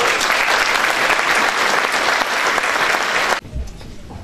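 Dense applause in a cemevi as Mustafa Düzgün, the cemevi dede, is welcomed to the front; steady loud clapping for about three seconds that cuts off abruptly, leaving faint room noise.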